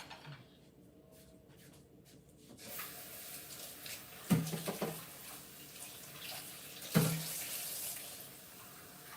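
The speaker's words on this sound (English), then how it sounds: "Let me rinse it a little bit." Tap water runs over grass jelly being rinsed in a sink, a faint start then a steady hissing flow from about two and a half seconds, broken by a couple of soft splashy knocks.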